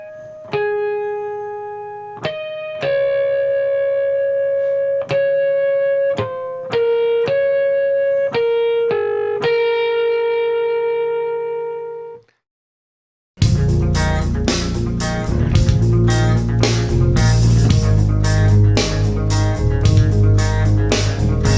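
A slow clean electric guitar plays a lick as single picked notes ringing out one by one, then after a brief silence a fuller, louder band backing bursts in with dense chords and drums.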